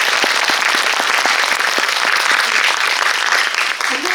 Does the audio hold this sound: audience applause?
yes